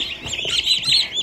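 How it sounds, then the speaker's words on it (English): Broad-breasted white turkey poults give high, close chirps and peeps in quick bursts that overlap one another. "broad-breasted white turkeys"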